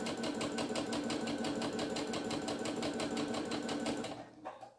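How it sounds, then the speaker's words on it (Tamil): An overlock sewing machine stitches a seam on a garment during an alteration, giving a loud, fast, even mechanical rattle close by that runs steadily and then winds down at the end. "அங்கே வந்து நம்ம ஓவர்லாக் மட்டும் போடணும், அவ்வளோதான்."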